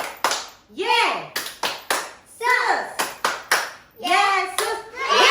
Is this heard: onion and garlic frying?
no